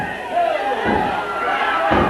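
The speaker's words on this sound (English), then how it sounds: "Andrews slams Orton into the corner" A wrestler is slammed into the ring corner at an indoor wrestling show: two dull, heavy impacts land about a second apart amid crowd noise and ongoing commentary.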